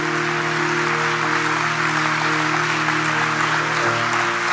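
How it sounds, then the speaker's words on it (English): A large church congregation claps continuously and steadily, a dense wash of applause filling the space, with a sustained musical drone underneath. "This is where the church needs to clap the loudest right now."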